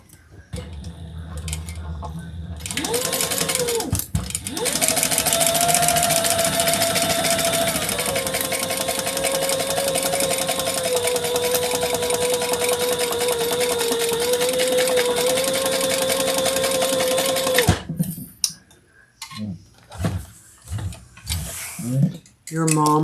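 A sewing machine runs fast and continuously for roughly fifteen seconds, stitching fabric with a loud, even motor whine and rapid ticking, then stops; brief clatter and handling noises follow.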